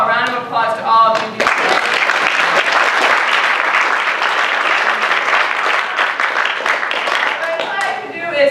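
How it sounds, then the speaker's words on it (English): Audience at a startup pitch event breaks into sustained, loud applause after brief speech, clapping filling most of the span before a voice returns at the end. "First of all, round of applause to all of you."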